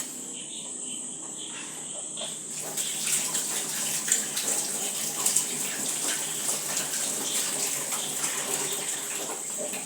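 Peeled onions are washed under running water, a steady splashing hiss from a tap with small sloshing bursts and faint clinks, close and moderately loud with no speech.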